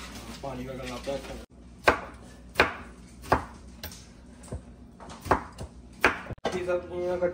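Knife chopping vegetables on a board at home, a handful of sharp separate chops spaced across the stretch, close and clear, with a voice talking quietly in between.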